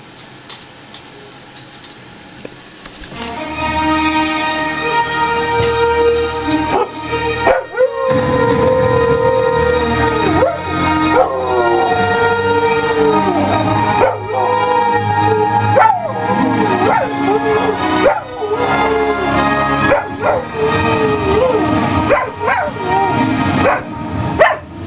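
A Samoyed dog sings along to a song, its long wavering howls and yips rising and falling over loud, continuous music from start to finish, with a person's voice briefly joining in.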